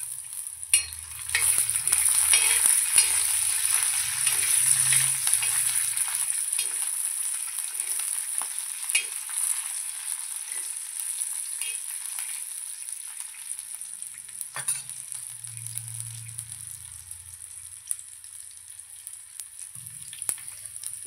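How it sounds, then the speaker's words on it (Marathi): Garlic and peanuts roast in a pan for Kolhapuri thecha, giving a steady bright sizzle with scraping stirs throughout and a few low knocks of the pan, all without speech. "ह्याच्यामध्ये लसूण आणि शेंगदाणे घालायचे, ते पण व्यवस्थित भाजून घ्यायचे।"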